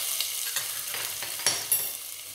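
Ginger and garlic frying in a pan with cardamom for mutton korma, a steady close sizzle broken by stirring scrapes and a couple of sharper crackles, with no voice.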